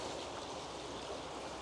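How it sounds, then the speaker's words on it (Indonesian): A small creek flows through a forest surrounded by trees, a steady broadband rush of running water, continuous and even, heard alone without talk. "Ini ada sungai di sini kecil."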